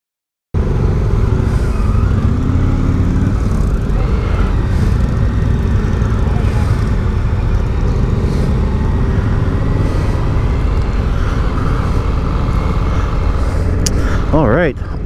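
An Indian FTR 1200 motorcycle engine runs continuously on a test ride, a loud close-up drone with wind rush and slight shifts in pitch, ending in a brief rising whine; a rider's voice is faintly mixed in.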